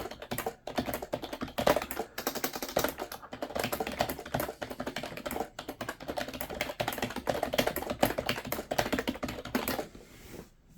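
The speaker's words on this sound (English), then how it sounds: "I don't know why people dislike cheaper keyboards, because they seem really nice to type on" Fast, continuous typing on a cheap computer keyboard, close and crisp, with dense irregular key clicks that stop briefly near the end.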